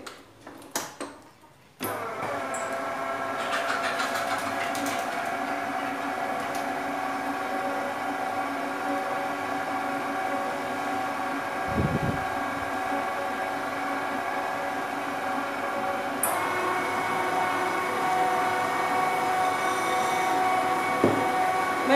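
An electric mixer running steadily and loud while working shortbread dough, a continuous motor whine that starts up abruptly and holds, with a slight shift in pitch partway through.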